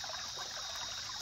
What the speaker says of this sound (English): the sound of the running water, like, just chilling here